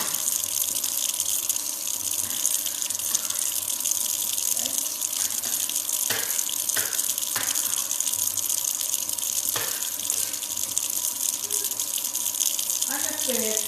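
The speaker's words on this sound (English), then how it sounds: "I always add warm water" Warm water pours into a cooking pot of tomato-paste sauce, a steady gushing stream running continuously, with a few short clinks and knocks of the pot breaking through near the end.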